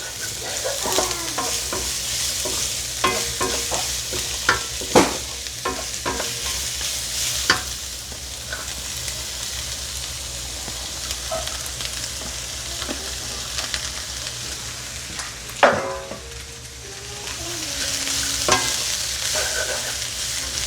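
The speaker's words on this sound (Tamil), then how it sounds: "பாருங்க உள்ளி, பச்சை மிளகாய், வெங்காயம் இதை கொஞ்சம் வதக்கி எடுக்க போகிறேன்" Garlic, green chilli and onion sautéing in a pan, a continuous soft sizzle with sharp clinks and scrapes of a stirring utensil at intervals, close and alone without talk.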